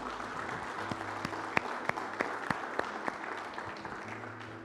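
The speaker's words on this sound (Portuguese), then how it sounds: "Vamos aplaudir o Senhor Jesus." A congregation applauds during a church service, a steady wash of clapping from many hands with a few sharp, distinct claps standing out, continuous and moderately loud throughout.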